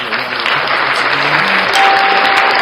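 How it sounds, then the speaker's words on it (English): A soundboard's canned round-of-applause effect during a live stream, a dense, steady wash of crowd clapping held at full loudness with faint tonal sounds running beneath it. "And a round of applause once again."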